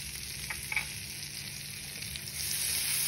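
Garlic fries gently in melted butter over a low flame, a soft steady sizzle with a couple of light clinks from a utensil near the start, and the hiss swelling slightly toward the end.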